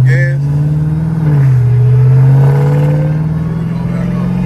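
Dodge Charger Hellcat V8 with an aftermarket fuel system, idling loud and close with a deep steady rumble that swells as a little gas is applied, someone talking over it.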